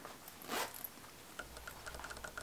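Zippers on a Rebecca Minkoff 5-zip wallet being handled, with one brief louder zip pull followed by a string of small, quiet ticks and rattles of the metal pulls, close and faint with no talking.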